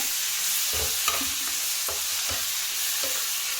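Thick bean paste sizzles and fries in a pan while a utensil scrapes and stirs it in irregular strokes, steady and close.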